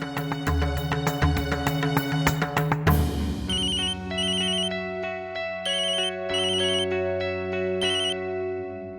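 A phone ringtone plays: a busy layered melody at first, then a brighter chiming tune with repeating high tones, steady and fairly loud, no voices.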